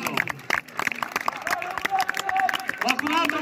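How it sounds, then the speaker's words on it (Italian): Clapping and cheering from a crowd at a historical reenactment of Roman games, a short burst of applause mixed with shouting voices and babble close by. "Un applauso!"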